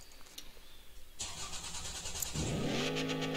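A V8 engine in the Car Tune video game starts after a quiet moment, catches with a loud burst, then revs upward with a rising whine that settles into a strong rumble.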